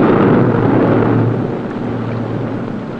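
Two diesel engines aboard the US submarine Gar run to charge the batteries, producing a loud, steady, droning rumble that eases slightly partway through.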